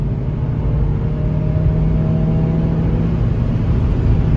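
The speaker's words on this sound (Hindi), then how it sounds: "अच्छा खासा शोर अंदर आ जाता है 5000 आरपीएम पे तो" A 2016 Honda Jazz V 1.5 petrol engine with high mileage drones steadily at high rpm, heard from inside the cabin as a loud, constant whirring hum.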